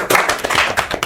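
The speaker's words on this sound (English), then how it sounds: "A round of applause for Tony." A short, close burst of several people clapping at a Kenyan political discussion, brisk and uneven for about a second.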